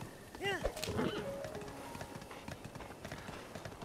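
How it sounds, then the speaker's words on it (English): Horse hooves clip-clop in the Breath of the Wild video game, a short run of quick, moderately loud hoofbeats near the start that fades beneath game background sound. "Brandon the Beautiful Horse"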